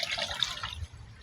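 Water poured into a cooking pan for Spanish-style bangus (milkfish), a short, close trickle and splash lasting about a second with no talk.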